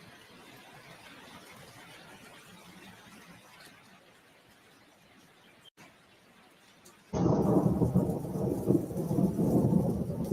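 A thunderstorm with heavy rain during town-centre flooding in Dunstable: a soft rain wash gives way to a sudden loud, steady downpour roar in the second half, with no voices.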